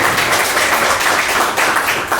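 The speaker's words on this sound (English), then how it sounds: "Round of applause." Audience applause after a host is invited on stage at a startup event, a dense, steady wash of clapping from a crowd that fills the whole stretch without talk.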